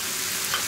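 Sunflower-style cooking oil sizzles in a hot pan during roasting, a steady broadband hiss with no pauses, close and moderately loud, with no talking.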